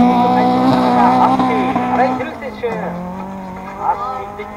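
Number 13 ASGS Storia rally car, driven by Ryuji Aoki, passing on a special stage: a loud engine note holds steady, then drops as the car goes by, with a commentator talking over it throughout.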